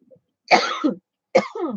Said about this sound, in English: I've been coughing all day